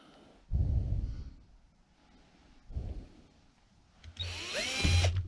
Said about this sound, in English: with the regular drill bits, you can push sideways on the drill while you're starting to make your hole